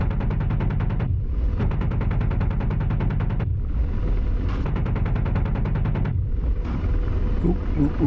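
Aircraft in the DCS combat flight simulator taking gunfire hits, three long bursts of rapid, dense impact rattling with brief gaps between them, loud and close.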